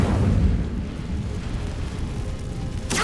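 The Incendio fire spell in Hogwarts Legacy goes off as a loud, rumbling whoosh of flame that stays dense and steady before a sharp crack near the end.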